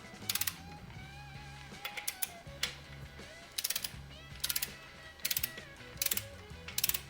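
A ratchet snugging Ford 302 main bearing cap bolts clicks in short repeated bursts of rapid pawl ticks, close and clear, with a few pauses between strokes.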